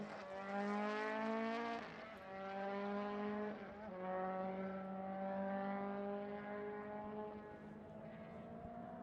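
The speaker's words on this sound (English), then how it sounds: "So it's Tony Kanaan at the wheel of the 73" Race car circling the Sonoma race track, a sustained tonal engine roar that holds steady and dips briefly as it shifts, heard at moderate distance with no talk.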